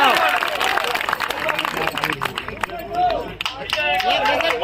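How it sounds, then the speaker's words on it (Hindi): Clapping from the crowd at a poetry recital and kavi sammelan in Varanasi rises and falls amid voices and murmuring, dense and moderately loud. "आपकी जोरदार तालियां बजनी चाहिए"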